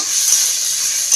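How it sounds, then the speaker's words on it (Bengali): Raw green peas and fried new potatoes are stirred in a hot pan, giving a loud, steady sizzling hiss with a faint scrape, close up and with no voices. "একদম কাঁচা মটরশুঁটি দিয়ে অল্প কিছুক্ষণ নেড়ে চেড়ে নেব।"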